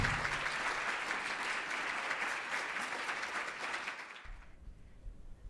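An audience at a 2019 DOE CSGF talk applauds award winner Sarah with steady, dense clapping that carries on for several seconds, then fades out abruptly into near silence.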